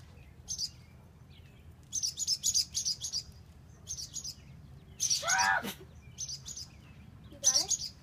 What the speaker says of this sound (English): the mama bird's freaking out